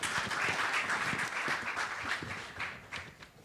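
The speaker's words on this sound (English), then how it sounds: "Round of applause for her." Applause from an audience at a Commonwealth people's forum session, a steady wash of many hands clapping that thins and fades toward the end.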